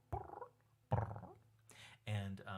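Two people make playful burbling cat-language noises at home, a series of warbling, purr-like vocal bursts imitating a cat, delivered in short separated phrases.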